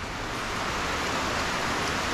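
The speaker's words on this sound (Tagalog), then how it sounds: "umuulan pa naman" Rain falls over crops in the countryside, a constant close wash of broadband hiss that never lets up, with no one speaking.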